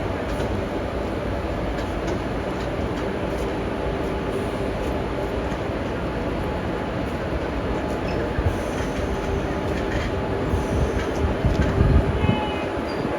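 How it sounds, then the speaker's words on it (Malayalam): Matsyagandha Express passenger train arriving at a station in India, a continuous loud rumble of rolling wheels and rail noise with faint squealing building slightly toward the end. "നമ്മുടെ മത്സ്യഗന്ധ എക്സ്പ്രസ് ആണ് ഈ വരുന്നത് കേട്ടോ."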